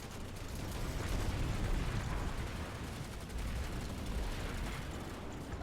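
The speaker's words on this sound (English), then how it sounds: "Yeah, I hear your shotgun." Gunfire in the online shooter PlanetSide 2, a dense, muffled barrage of repeated booming shots filling the whole stretch at low level, with the shotgun not clearly separable from the wider battle noise.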